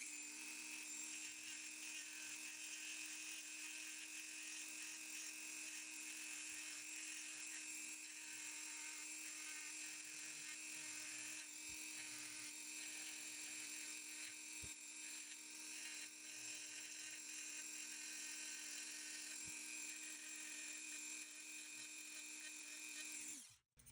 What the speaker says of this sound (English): That cone-shaped Dremel bit is definitely the ticket for a little bit of accuracy.